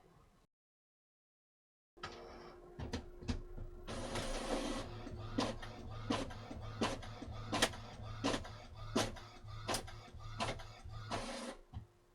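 A printer runs a test page after a short silence, whirring continuously while the print head clacks in sharp, regular strokes, then pauses near the end.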